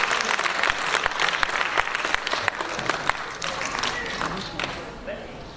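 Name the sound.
applause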